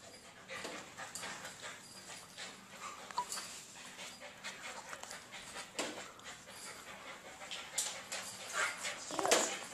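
A puppy whimpers and pants with a few short yips and barks, fairly close but quiet, mixed with faint household noise and brief murmurs of people talking.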